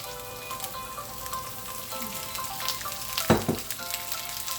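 Green beans sear in a pan with garlic, a steady crackling sizzle with a sharper burst of spatters and clatter toward the end, no voices.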